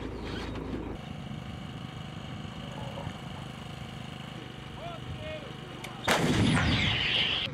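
A Ukrainian 155 mm self-propelled howitzer fires a heavy artillery blast near the end, following several seconds of steady low rumble and background noise.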